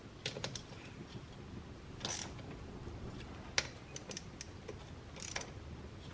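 Bolts being hand-tightened on the lower end of a Polaris Outlaw engine, heard as light, irregular metallic ratcheting clicks and taps close by, with a few brief bursts of scraping.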